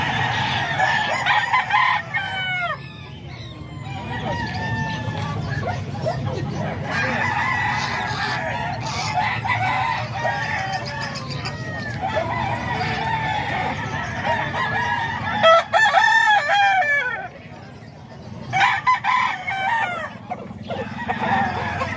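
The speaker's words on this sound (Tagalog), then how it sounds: "May manok" Several roosters crow in turn at a backyard poultry farm in Calumpit, with chickens clucking steadily between the crows over a constant low background hum.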